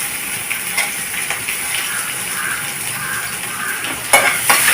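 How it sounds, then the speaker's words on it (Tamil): Onions and vadagam sautéing in hot oil for a Tamil garlic kuzhambu lunch dish: a steady close sizzle with stirring scrapes and a couple of louder spatula clatters near the end, no talk. "வெங்காயம் போட்டு நல்லா வதக்கிக்கலாம்."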